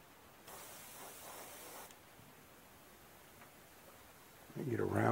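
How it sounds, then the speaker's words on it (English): An airbrush spraying thinned paint mixed with rubbing alcohol onto velvet antlers during repair, a soft hiss in a short burst near the start, quiet otherwise, and a voice starting up at the end. "reach in and get it sprayed. I guess I'm holding the airbrush"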